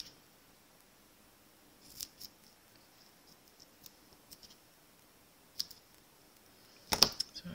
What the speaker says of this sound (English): I'm going to go ahead and cut a couple of little pieces to put on the handle